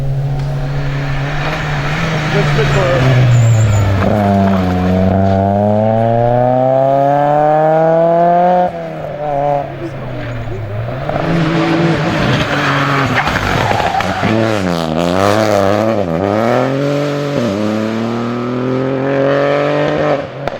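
Rally car in the Rallye des Bauges 2025 driven hard, engine rising and falling in pitch through repeated gear changes and revs, loud and close throughout with a brief lift near the middle.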